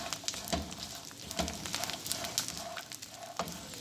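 Ingredients for desi panjiri fry in a pan with a steady crackling sizzle and scattered sharp pops, close and moderately loud, with no talking.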